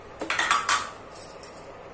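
A metal spoon stirs onion salan in a cooking pot, making a few close, bright scrapes and clinks against the pot in a brief irregular burst, then quieter scraping.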